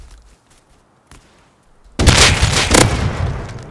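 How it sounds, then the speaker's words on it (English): A pipe shotgun fires in the survival game Rust, a loud, dense blast that bursts in after near silence and stays heavy for over a second, with small faint clicks before it. "Oh, he's got a pipe shotgun."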